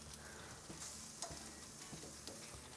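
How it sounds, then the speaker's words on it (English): Beef chuck steaks searing in a pan for a stew, a faint, steady sizzle with occasional soft crackles and light taps, heard quietly with no voices. "I want to sear them so we get that Maillard effect on the outside of the steak"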